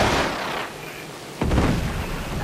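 Grenade explosion in the Uncharted 2 multiplayer video game, a loud, close boom that cuts in midway and rumbles out over continuing game noise.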